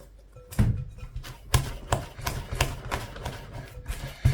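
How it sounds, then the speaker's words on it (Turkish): Börek dough is slapped and kneaded by hand on a work surface, giving a series of close, sharp slaps at an irregular rhythm with softer squishing between them. "Şöyle çırparak yoğurduğumuz zaman daha çabuk kıvam alıyor"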